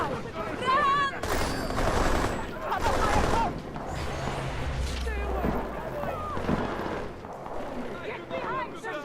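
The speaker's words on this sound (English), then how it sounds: "Gunshot! Get down! Run!" Gunfire in the Deus Ex: Mankind Divided video game: loud, broadband shots and bursts ring out among frantic shouting voices and crowd panic, with a heavier volley mid-clip.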